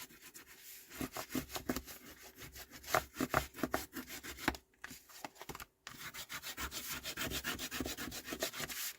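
Dry paper being rubbed firmly against a mini scrapbook album page to press it flat, in quick repeated back-and-forth strokes close to the microphone, with two short pauses partway through.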